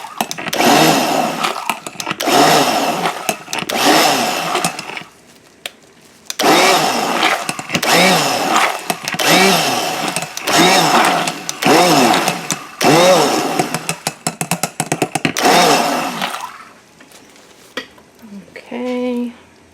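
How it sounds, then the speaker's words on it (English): Stick blender mixing a homemade coffee and tea lotion: loud, whirring motor bursts switched on and off in repeated pulses of a second or two, with brief quiet gaps and a voice near the end. "I'm going to stick blend."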